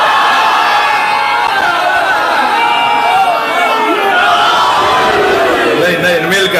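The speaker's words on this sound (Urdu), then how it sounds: "یہ جو نعرہ حیدری ہے نا, اسے ابھی ایک سچ کے نعرہ لگائیں" At a live Shia majlis commemorating the martyrdom of Imam Hassan, a large crowd loudly shouts the Naara-e-Haidari slogan together, a dense, continuous roar of many voices.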